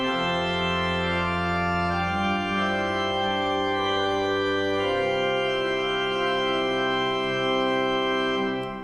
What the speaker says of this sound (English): that really adds brilliance and clarity to the general sound of the organ